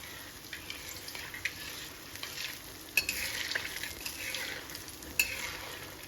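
Sweet pua fry in pure desi ghee with a soft, steady sizzle, broken by occasional stirring clinks and scrapes, quiet and close with no speech.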